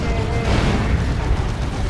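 Orbital bombardment strike landing in the real-time strategy game Dawn of War 2: Retribution, a dense, continuous rumbling blast with booming low end, sustained and loud for about two seconds without talk.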